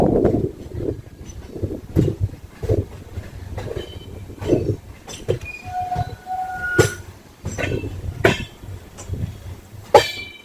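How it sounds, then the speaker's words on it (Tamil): Brindavan Express pulling away from Walajah Road station, heard from on board: rhythmic rumbling wheel beats and rail clatter, short high squeals and tonal whines, and sharp metallic bangs near the end. "ஒரு 5 மினிட்ஸ் ஹால்ட்டுக்கு அப்புறம் நம்ம வாலாஜா ரோட்ல இருந்து கிளம்பியாச்சுங்க"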